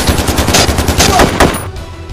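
Gunfire rattles through a movie shootout as loud, rapid bursts of close shots in uneven volleys, then cuts off near the end.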